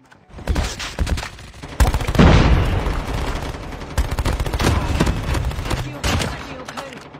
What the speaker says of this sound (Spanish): Me está disparando otro